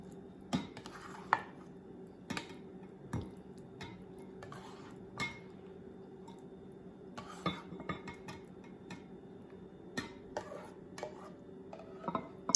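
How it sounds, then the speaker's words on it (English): Baked salmon is dished into a casserole dish in a kitchen with a steady background hum: irregular clinks and scrapes of a utensil against cookware, about a dozen distinct knocks spread over the stretch, fairly close and quiet, with no talk. "This is going right into a nice baking casserole dish to keep this nice and warm."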